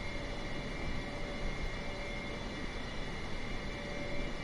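Steady, even cabin drone of a Boeing 747 cruising in Microsoft Flight Simulator 2020, a broad low rumble with a faint constant hum above it, unchanging throughout with no voices.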